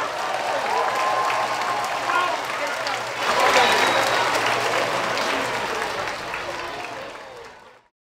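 An audience at a military tattoo show claps in a sustained burst of applause, loud and dense, swelling midway and then fading out at the end.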